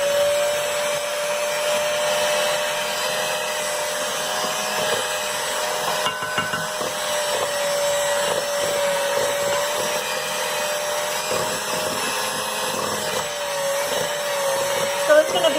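An electric mixer whirs continuously while mixing vegan pumpkin blondie dough, a loud steady motor hum with slight variations from start to finish.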